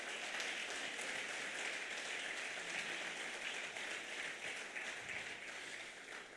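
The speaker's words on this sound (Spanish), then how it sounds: "dele un aplauso a Dios." A church congregation applauds, a dense, even wash of many hands clapping that holds steady throughout and tapers slightly at the end, with no speech over it.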